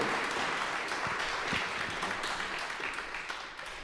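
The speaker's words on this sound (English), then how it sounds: "How about another round of applause for Clancy?" A concert audience applauds a saxophone performance with steady, dense clapping that holds evenly, then thins slightly toward the end.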